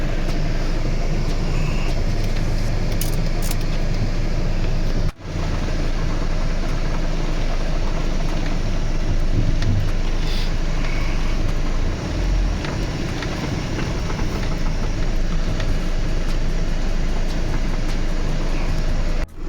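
A Chrysler Grand Voyager van under restoration runs with a steady low engine rumble as it is moved to park, a continuous close drone with a brief cut partway through.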